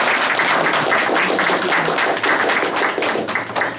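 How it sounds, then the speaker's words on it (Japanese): Sustained applause from a seminar audience at a Kihoku town agriculture-commerce-industry study session, a dense steady clatter of many hands filling the room for nearly four seconds with no talk. "拍手を持ってコメントを返させていただきたいと思います"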